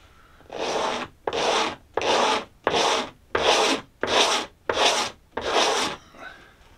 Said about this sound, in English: Just using a blade, just so I can scrape it off with the blade.